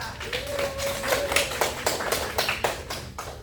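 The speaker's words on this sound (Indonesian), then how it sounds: "Tepuk tangan dulu dong buat Ika." A class claps for a student named Ika during a mathematics lesson. Several rhythmic claps ring out over a faint tonal hum, loud and close.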